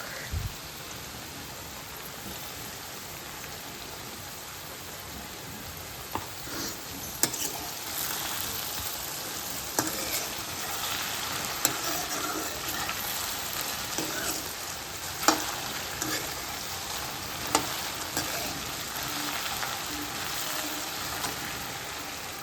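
Okra (bhindi) curry sizzling in a pan after tempering, a steady crackling fry with scattered sharp pops and spits throughout, close and fairly quiet, with no talking.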